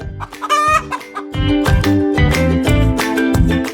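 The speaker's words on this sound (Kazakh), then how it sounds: "Тауық қытқыттайды." A domestic hen clucks loudly and close up in a quick series of repeated calls, with one higher squawk near the start.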